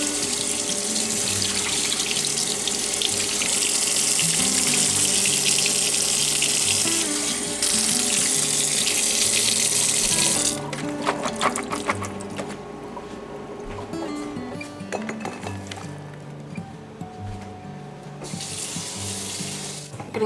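Running kitchen tap water rinses food in a sink. A loud, steady gush for about ten seconds gives way to quieter, uneven splashing and dribbling as the food is moved under the stream.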